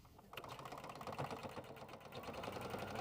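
A sewing machine hums close by, sewing along the edges of a small fabric case in one continuous, rapid run with a steady mechanical chatter.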